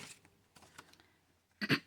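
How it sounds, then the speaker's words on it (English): One person clears their throat in a short, close, rough burst after a few faint rustles and soft breaths in an otherwise quiet room. "I can't get my throat to clear, and I don't want to cough a big yucky cough"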